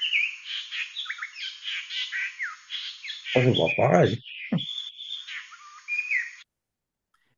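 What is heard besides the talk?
fluty song of another Marquesas reed warbler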